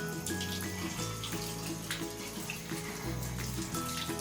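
Warm water running steadily from the tap into a bathtub for bathing a small dog, a continuous close splashing rush with no pauses.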